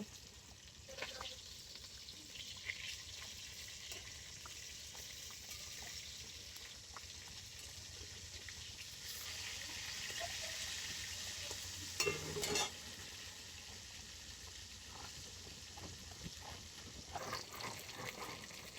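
Snakehead fish frying in oil in a pan, a steady soft sizzle running throughout with occasional brief clinks and stirring sounds, no voices.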